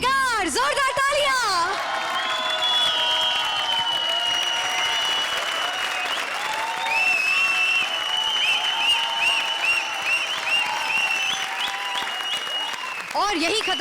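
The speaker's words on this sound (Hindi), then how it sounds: "जोरदार तालियां" A studio audience at a televised comedy show breaks into loud, sustained applause that fills the whole stretch, with musical tones and a swell of crowd noise running underneath.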